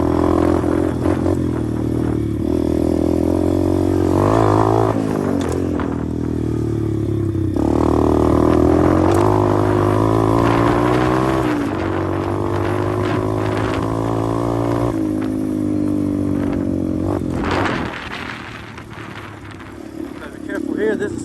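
A pit bike churns through soft, deep sand in a backyard sand pit, its engine droning and revving under load while the tires scrape and clatter, and a rider talks over the noise.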